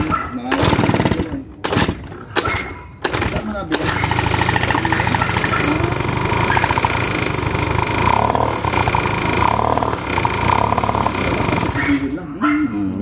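A Honda Dio scooter fitted with a Dio 3 engine running and revving, a loud close rattling two-stroke buzz with choppy throttle blips at first, then a sustained idle with people talking over it.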